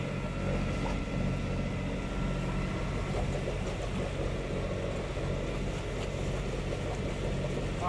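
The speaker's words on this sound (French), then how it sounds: "Le moteur est reparti." A boat's outboard motor runs steadily after being restarted on turquoise sea water, a continuous low drone mixed with wind buffeting the microphone and wave wash, with no breaks.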